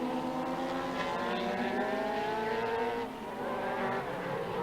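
3.5 litre Boss Formula race cars sweep through a corner at Mondello Park, engines droning loudly in a steady, rising-and-falling howl as closely matched cars pass, with no talk over them.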